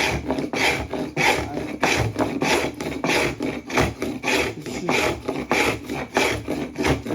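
A travisher hand tool shaves a wooden Windsor chair seat in rapid rhythmic strokes, each a close raspy scrape repeating steadily about twice a second with no talking.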